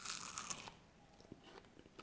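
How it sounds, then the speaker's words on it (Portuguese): One crisp bite into a Ferrero Rocher hazelnut chocolate gives a short loud crunch up front, followed by faint soft chewing and crumbling close to the mic, with no talk. "Ele é crocante, macio, pedacinhos de avelã"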